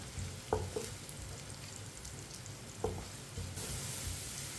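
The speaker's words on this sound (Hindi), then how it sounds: "इसे ऐसे ही चम्मच चलाते हुए ब्राउन करना है।" Finely chopped onion sizzling steadily in a pan for a masoor dal, with a couple of soft knocks and scrapes as a spoon stirs it, quiet and close.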